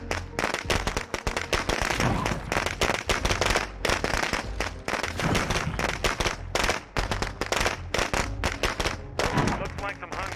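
Sniper support gunfire in a zombie video game, a dense continuous crackle of rapid shots and bursts, loud and sustained with voices mixed in.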